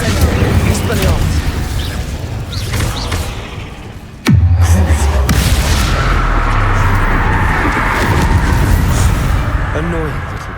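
A Bombarda spell explosion in Hogwarts Legacy strikes with a sudden loud boom partway through, followed by a rumbling tail over busy game effects and ambient sound.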